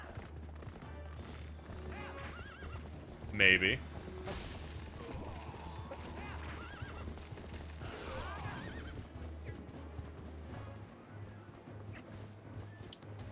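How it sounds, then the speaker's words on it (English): In The Legend of Zelda: Twilight Princess, a horse whinnies loudly and its hooves clip-clop under a droning game soundtrack, with a player talking over it at times. "does the horse sounds like it overlaps with each other?"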